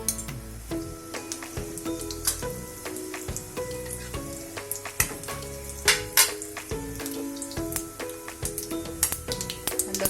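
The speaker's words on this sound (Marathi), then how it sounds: "इथं आपलं तेल तापलं आहे आपण याच्यामध्ये जिरं मोहरी घालूया" Cumin and mustard seeds crackle and pop in hot oil for a monsoon vegetable dish, a steady close sizzle dotted with sharp spits and occasional utensil clinks.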